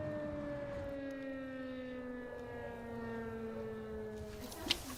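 Air raid sirens wail over Zhytomyr, Ukraine, a long sustained tone slowly sliding down in pitch, heard from a distance and alone, with a small knock near the end.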